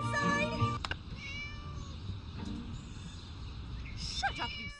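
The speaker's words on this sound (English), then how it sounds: "Shut up, you silly cat!" Cartoon cat meowing in the video game Scary Teacher 3D, a few whiny mewing calls near and fairly clear over soft game background.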